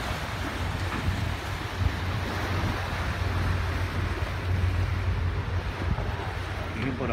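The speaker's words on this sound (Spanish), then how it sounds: "Se mueven las olas." Steady wash of waves and surf against the shore, mixed with wind buffeting the microphone, continuous and fairly loud.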